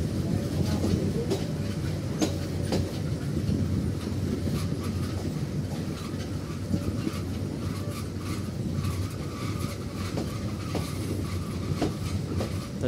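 A Bangladesh Railway train, the Mohanagar Godhuli Express, pulls out of a railway station with a steady rolling rumble and repeated clickety-clack of wheels over rail joints, heard at moderate distance throughout.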